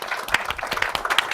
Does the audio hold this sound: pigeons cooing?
no